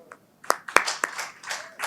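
A few people clap at a press conference in Chandigarh, a sparse handful of sharp, irregular hand claps close by, scattered over a couple of seconds rather than full applause.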